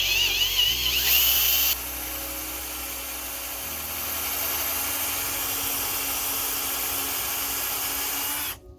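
A power drill with a 1/2 inch bit bores out a hole while working on a water pump, whirring steadily and close for several seconds before stopping abruptly.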